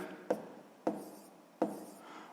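Pen or chalk strokes writing math values by hand, three distinct scratchy taps spaced about half a second apart, close and fairly quiet, with no talk.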